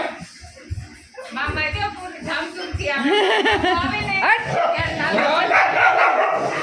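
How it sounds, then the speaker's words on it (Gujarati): Dogs bark repeatedly and close by, with yips mixed in, the barking growing louder and more continuous as voices are heard talking in the background. "આ બારોબાર કૂતરા આવે એનો અવાજ સાંભળી"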